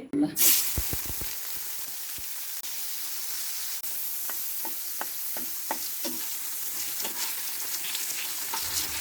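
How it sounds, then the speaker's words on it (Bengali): Potato pieces fry in hot mustard oil in a pan with a steady hiss, and a spoon scrapes and stirs them at irregular moments with crisp clicks. "এখন আর একটু তেল দিয়ে আলুগুলো একটু ভেজে নেব।"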